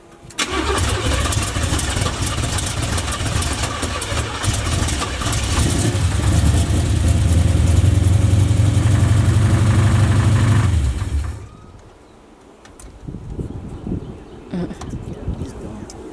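A Chevy engine with a failing motor runs loudly at close range for about eleven seconds, a steady low rumble, then cuts off abruptly; quieter rumble and faint voices follow.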